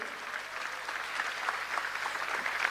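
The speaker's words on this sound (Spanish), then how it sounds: "yo quiero oír un aplauso al Señor más fuerte" A church congregation breaks into loud, steady applause for the Lord during a sermon, a continuous wash of many hands clapping together without any voices.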